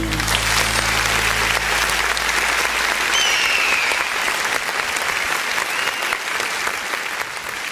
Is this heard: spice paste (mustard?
no